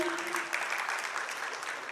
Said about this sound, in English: Let's cheer for their hard work and dedication. Please clapping. Make some noise, everyone